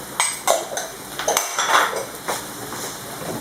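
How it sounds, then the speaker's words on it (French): A metal spoon clinks and scrapes against a bowl, mixing Moroccan grilled aubergine zaalouk with parsley, preserved lemon and olives. Several quick, close taps and stirring scrapes are packed into a few seconds. "Et je mélange tout pour que l'aubergine soit bien imprégnée de tous les épices qui restent."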